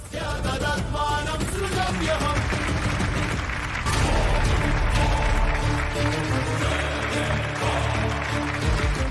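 Applause in a Telugu TV drama scene, with a crowd clapping in a dense, continuous patter under a music score, and the clapping grows fuller about halfway through.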